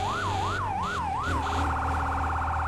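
Fire truck siren in the video game Firefighting Simulator, loud and close, first a rising-falling wail repeating four times, then switching to a rapid warbling yelp over engine rumble.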